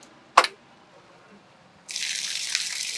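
A borewell motor is switched on with a single sharp click, followed after a short quiet pause by a steady, close rush of pumped water gushing out continuously, with no talking.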